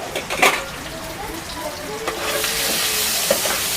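Ginger garlic paste frying in a pan, a soft continuous sizzle with a few stirring scrapes, growing louder and hissier toward the end.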